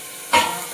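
Bitter gourd (karela) pieces drop into hot oil with a sudden close sizzle that bursts up, then settles into a softer, steady frying hiss.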